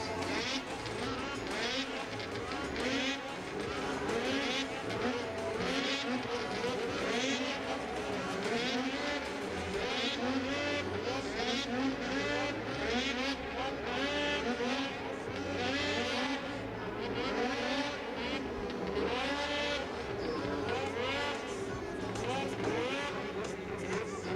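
Snowcross racing snowmobiles being started and revved by mechanics at an event in Kitchener, Ontario, several high-pitched two-stroke engines buzzing and rising and falling together in a steady, dense drone, with voices talking underneath.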